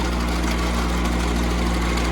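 A Massey Ferguson Dyna Balance 41 tractor engine runs steadily at an even, adjusted idle, a loud close-up low hum with constant vibration and no voices.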